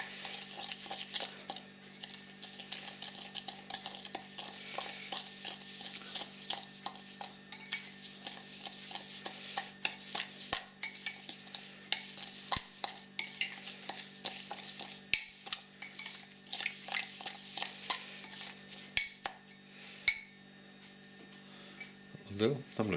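Food for pulled pork being stirred and mixed in a dish, with repeated soft scraping and clinking of a utensil against the bowl, close and fairly quiet, while a person talks intermittently.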